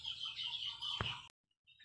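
Chickens cluck and chirp softly in a steady chorus, then the sound cuts off abruptly and resumes faintly after a short silence.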